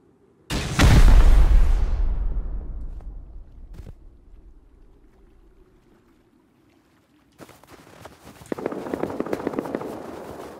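A big rocket launcher blast in a raid-themed survival shooter game booms loudly and rolls off into a long fading rumble, then after a quiet gap a clattering run of smaller crackling impacts and debris sounds.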